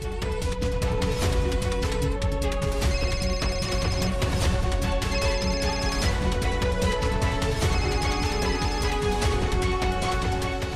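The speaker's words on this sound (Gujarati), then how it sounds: "આટલી રાત્રે કોના ફોન આવે છે?" A telephone rings late at night in a home, a loud, continuous electronic ringtone melody with repeating tonal phrases that cycle every couple of seconds without pause.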